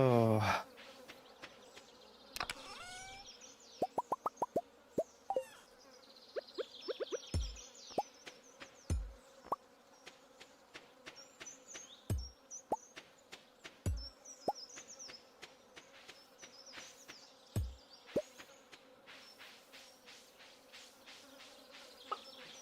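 Flies buzz around in the farming game Stardew Valley, a thin insect drone under scattered clicks and soft taps, with sparse faint speech sounds early on.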